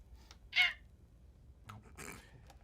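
A voice imitates a fox call in two short bursts: a sharp high yelp, then a rougher scratchy cry a moment later, alone against quiet background.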